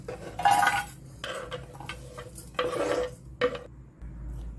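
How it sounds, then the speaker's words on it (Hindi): Chopped green chillies for pickle are tipped into a dry metal vessel, giving a few loud clattering scrapes and clinks of metal in short bursts, with no voice. "अब हम इसको एक सूखे बर्तन में डाल देते हैं।"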